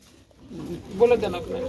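Pigeons coo softly at a pigeon sale, a low murmuring call rising in the second half over faint background noise.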